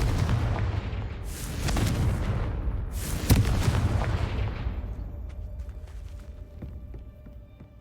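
A Confringo blasting spell explodes in a Harry Potter video game: two loud booming blasts with broad rumbling tails about two seconds apart, then a sharper crack, all fading slowly into a quieter hum.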